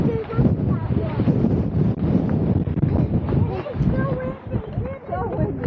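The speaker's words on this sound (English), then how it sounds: "It's so windy." Strong wind buffets the microphone on an outdoor hiking trail at a canyon overlook, a continuous low roar and rumble running the whole time, with people talking over it.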